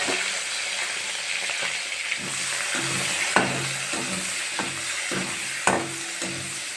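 Onions and green chillies fry in oil left from frying paneer, a steady sizzle broken by rhythmic spatula scrapes and taps against the pan, close with no talking.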